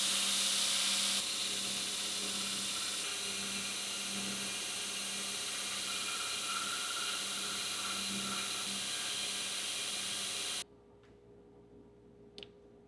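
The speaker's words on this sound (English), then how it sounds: "I just got to grind it really close." A knife blade with wasp nest scales being ground close to the hive material on a grinder, a steady loud broadband whine running continuously for about ten seconds before cutting off to near silence with a couple of faint ticks.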